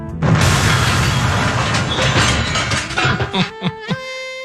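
A loud booming blast with a rumbling roar that fades into scattered debris-like thuds, ending on a short tonal chime.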